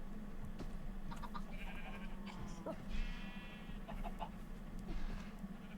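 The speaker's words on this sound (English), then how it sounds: "What is making that noise? Oh, I think it's the camels." Faint, bleating camel calls from Minecraft recur in short bursts over a steady low hum, sounding like game livestock noises heard at a distance.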